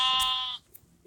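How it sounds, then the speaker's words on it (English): A sheep gives one clear, wavering bleat close by, followed by a short silence and the start of another call. "Little sheepy, get out!"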